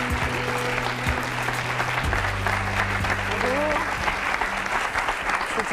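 Studio audience on a French talk show applauds as a new guest arrives, a steady dense clapping wash that holds evenly throughout, with low tonal hum running beneath.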